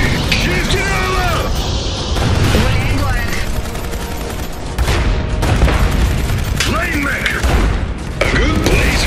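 Battle in the Iron Harvest game: dense, loud gunfire and heavy explosions in repeated bursts, with booming impacts and mechanical clatter, while unit voices call out over the fighting.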